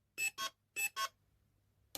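Perun M14 mosfet on an airsoft gun emitting programming beeps: two quick pairs of short electronic bleeps, evenly spaced and clear against near silence, followed by the start of another beep at the end.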